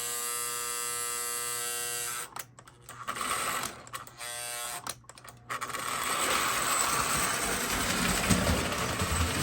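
The electric motor of a Lionel toy train locomotive, somewhat dry, hums with a steady buzzing whir, cutting out briefly a few times before running continuously and louder, close by with no talk.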